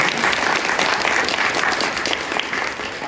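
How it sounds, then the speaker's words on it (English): Guests at a university library student scholarship reception give a quick, loud round of applause. The dense clapping stays steady for a few seconds with no talking over it. "Quick round of applause."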